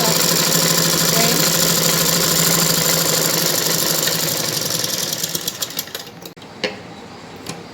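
Sewing machine running steadily while running a basting stitch through blouse fabric, a continuous close mechanical whir that slows and breaks into a few separate stitching bursts near the end.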